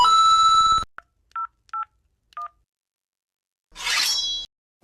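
A phone call is placed: a steady dial tone cuts off, three short keypad-style beeps follow, then a louder burst of ringing tone near the end, all close and clear with no talking.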